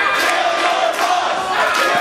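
A loud wrestling arena crowd at a Twin City Wrestling show roars and chants in unison, a sustained wall of voices rising and falling in waves throughout.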